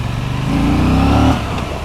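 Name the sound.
Aprilia RS 457 motorcycle accelerating, pickup test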